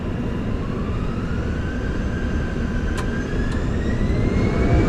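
An airliner takes off on runway 01, with a loud, steady jet engine roar and a rising whine that builds gradually over the runway rumble.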